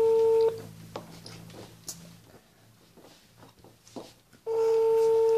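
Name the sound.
telephone number being dialed, keypad tones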